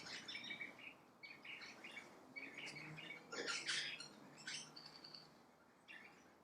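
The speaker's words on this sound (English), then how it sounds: "Can you hear the birds" Small birds singing and chirping outdoors at moderate distance, a scattered series of bright tweets and trills over a quiet, faintly hissy background.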